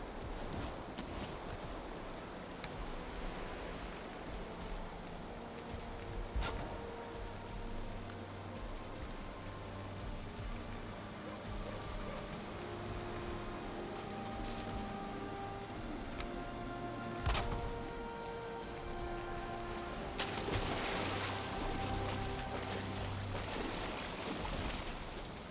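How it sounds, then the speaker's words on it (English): Steady rain patters continuously in the video game Valheim over a faint, low tonal backdrop, with occasional sharper drips and no speech. "Wish it wasn't raining."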